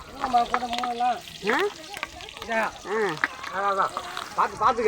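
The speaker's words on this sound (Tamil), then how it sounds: "என்ன தாளிக்கிற?" Spices temper in hot oil, sizzling and crackling steadily in a pan while people talk over it throughout, during cooking for a family ear-piercing ceremony.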